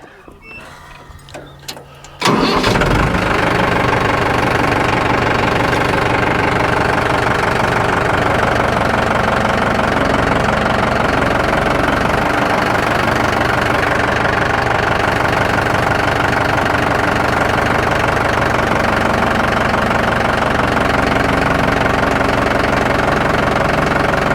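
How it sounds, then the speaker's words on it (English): A tractor engine cranks briefly, then catches and settles into a loud, steady idle with a knocking rumble that runs nearly the whole time, very close. "I guess letting the tractor sit a minute"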